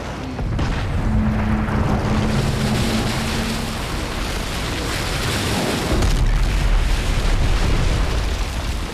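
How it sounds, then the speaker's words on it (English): A submarine surfacing in the Call of Duty: Modern Warfare 3 campaign, heard as a loud, dense roar of rushing water and rumbling bursts, with a low hum early on and a heavier surge in the last few seconds. "Sub is surfacing."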